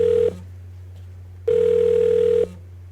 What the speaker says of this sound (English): Wait, what's the ringtone again? I forgot. Like, ding, ding, ding, ding.